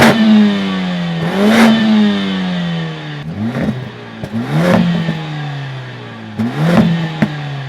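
The engine of a 2023 Mercedes-AMG CLA 45 S coupe revs loudly up close in three repeated climbs, each pull rising in pitch and then dropping back toward idle.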